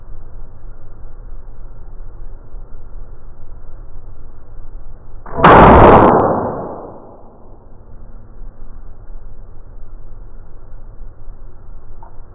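A percussion cap goes off in a Wild West gamblers gun kit: one sharp, very loud crack midway that decays over about a second, with quiet background hiss before and after.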